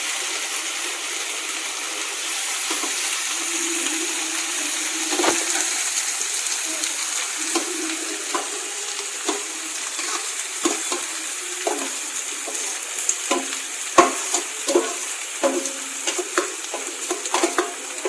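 Sliced bitter gourd (karela) sizzles in two spoonfuls of hot oil in a kadai, a steady close frying hiss broken by occasional clinks and scrapes of a stirring spoon.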